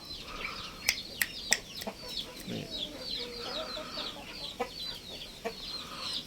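A young fighting-breed rooster, around seven to eight months old, gives short, scattered clucks at a farm, with chirping birds and other fowl in the background.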